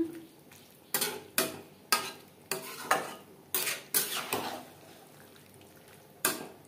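Jackfruit and potato with spices stirred in a pan, a series of close, sharp scraping strokes of a spoon against metal, roughly one every half second, over a soft background sizzle, then a pause before a final scrape.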